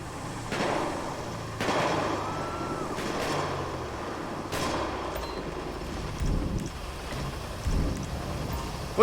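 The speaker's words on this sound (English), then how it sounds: "Dispatch, shots fired." Gunfire crackles in a GTA 5 LSPDFR police patrol in Rockford Hills, a few sharp broadband cracks spaced about a second apart over a steady noisy background, with low rumbling thumps later on.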